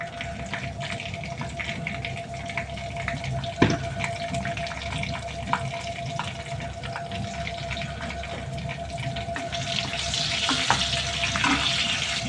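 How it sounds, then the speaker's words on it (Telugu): Garlic and dried red chilies with mustard seeds and cumin frying in hot oil for a tomato-coriander pickle, a steady close sizzle and crackle with a sharp pop near four seconds and a brighter hiss toward the end. "ఆవాలు కాస్త చిటిపట్లాడింది కదా, ఇంకా ఇప్పుడు వెల్లుల్లి, ఎండుమిర్చి"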